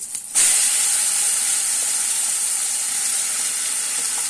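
Cucumber pieces dropped into hot oil with curry leaves for a peanut cucumber chutney, a sudden burst of loud sizzling that settles into a steady, close frying hiss with no speech.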